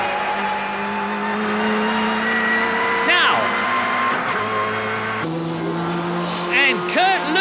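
A 1990 British Touring Car Championship race car engine revs up and drops through gear changes in a sustained, fairly loud whine, with a commentator talking over it and occasional tire squeal.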